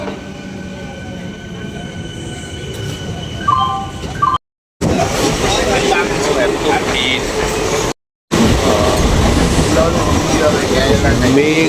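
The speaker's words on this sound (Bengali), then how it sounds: "लाइन नंबर 1 और लाइन नंबर 3 दो ट्रेन जा रही है।" Two trains run past at a station on lines 1 and 3, producing a loud, steady rumble with wheel screech and clatter that fills the whole stretch, with two brief cutouts partway through.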